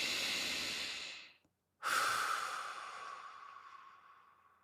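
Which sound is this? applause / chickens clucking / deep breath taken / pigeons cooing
deep breath taken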